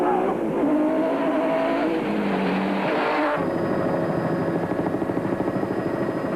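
Nissan hardbody race truck of Hannes Grobler and Richard Leek competing in the Mmabatho 500 endurance race in 2003, engine roaring loud and close with a sustained rising then shifting drone, tyres scrabbling, no talk.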